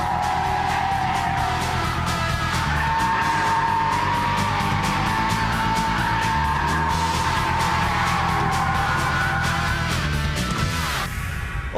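A TVR T350C sports car's 3.6-litre 24-valve engine roars loudly and steadily up close for the whole stretch, with tires squealing and skidding beneath the revs.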